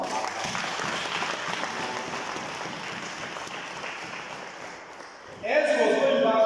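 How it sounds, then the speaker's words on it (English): Congregation clapping hands during a sermon on inner healing, a dense, steady wash of applause running for several seconds, with a louder burst near the end where talk and voices cut in. "Can you clap our hands?"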